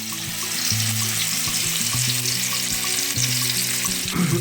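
Steady, close sizzling and spitting of mackerel frying in a hot pan, with light clinks and scraping mixed in.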